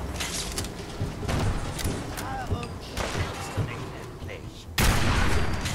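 Gunfire in the video game Fallout 4 cracks out in a few sharp bursts with mechanical clanks between, under someone talking over the action.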